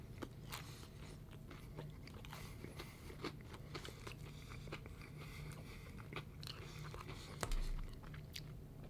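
Crunchy pizza crust at a Las Vegas resort being bitten and chewed, a steady run of close, faint crisp crunches and mouth sounds with a low hum underneath.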